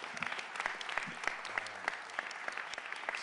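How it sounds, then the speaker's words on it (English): Steady applause from a crowd, many hands clapping continuously at a moderate distance, with no voices standing out. "Majority Leader Councilman Curtis Jones, give him a real big round of applause first and foremost"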